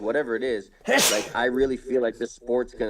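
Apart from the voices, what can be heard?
sneeze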